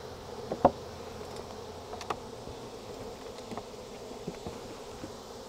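Honey bees buzz steadily around a robbed hive during a beekeeping inspection, a soft continuous drone with a few louder individual bees passing close by, no talking.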